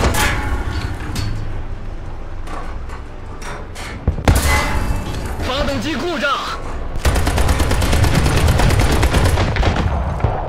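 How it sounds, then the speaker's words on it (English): Sustained automatic gunfire from tank and aircraft machine guns in the combat game War Thunder, with dense rapid bursts and heavy thuds continuing throughout. "the machine guns didn't even mark"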